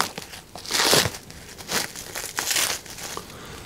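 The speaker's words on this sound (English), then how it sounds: "Now your seasoning stick will also be wrapped in some cellophane" Cellophane wrapping is crinkled and pulled off a seasoning stick, a close, loud run of crackling rustles in several bursts with no talking.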